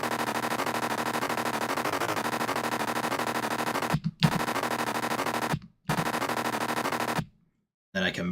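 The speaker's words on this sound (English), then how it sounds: "the bass sounds different, or the grinding synth sounds different between these two sections" A hardcore track plays a loud grinding synth and bass pattern with its randomness removed, a dense, rapid rattling texture that stops abruptly for short gaps and then restarts.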